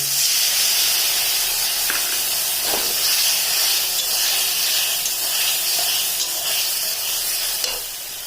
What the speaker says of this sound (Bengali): এখন আমি এই সর্ষে বাটাগুলো দিয়ে দিচ্ছি।